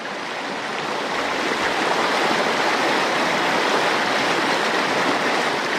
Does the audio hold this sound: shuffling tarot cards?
no